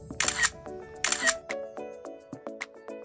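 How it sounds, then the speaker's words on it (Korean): A camera shutter click sound effect: two crisp, bright mechanical clicks about a second apart, followed by a faint ringing tail with softer ticks, close and clean with no talking. "찰칵 소리를 하나 가져오겠습니다"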